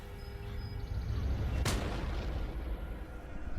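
A single sharp rifle crack from a Revolutionary War era Patriot marksman's long rifle, fired once at mid-clip over a low rumbling ambience and followed by a fading echo.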